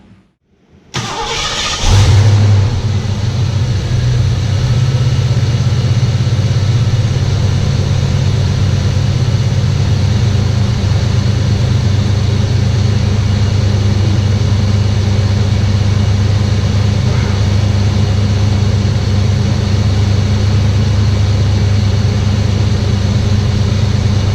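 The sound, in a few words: Ford Foxbody car engine starting and running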